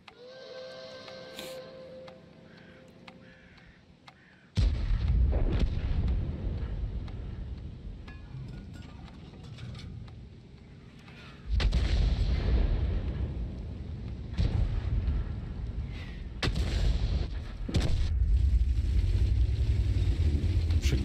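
Heavy booming shots from an M53/M55 self-propelled artillery piece in a tank video game, two loud low-frequency blasts with rumbling tails over continuous engine and battle noise.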